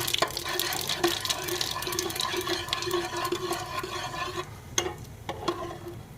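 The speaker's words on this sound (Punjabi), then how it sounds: "ਇਹ ਜੀਰੇ ਨੂੰ ਆਪਾਂ ਵਿੱਚ ਤੇਲ ਦੇ ਭੁੰਨ ਲੈਣਾ ਚੰਗੀ ਤਰ੍ਹਾਂ" Cumin seeds roast in hot oil in a pan for a bottle gourd and milk curry, giving a soft steady sizzle with light stirring scrapes and occasional clinks, fairly quiet and close.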